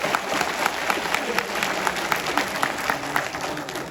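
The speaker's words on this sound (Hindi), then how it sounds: "योगेंद्र चांदोलिया जी के लिए जोरदार ताली बजाओ आप" Audience clapping at a political stage event, a steady dense patter of many hands, moderately loud and continuous throughout, with some crowd murmur beneath.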